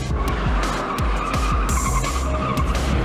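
A Corvette Z06 corners hard, and its tires squeal and skid in repeated sharp bursts over a steady, close engine drone.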